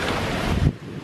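Strong Hurricane Irma wind roaring and buffeting against the microphone, a loud broadband rush that drops off abruptly near the end, with no talking.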